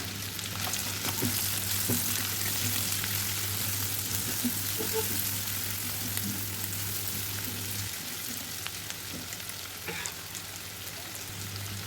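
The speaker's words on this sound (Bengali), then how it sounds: "এর মধ্যে কিছু কাঁচা পেঁয়াজ দিয়ে ভাজি করলাম" Shrimp frying with raw onion in a pan, a constant close sizzle with light bubbling crackle and occasional soft stirring, a low hum underneath for most of it.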